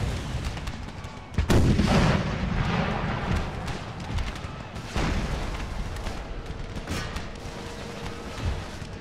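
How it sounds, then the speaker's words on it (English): Howitzer and canister shot artillery fire in the battle game Empire: Total War, shelling a town: a dense, continuous roar of booming cannon blasts and crackling gunfire, with a heavy close explosion near the start and more shots rolling on throughout. "There's those howitzer shots going out. And the canister shot. firing down into the town."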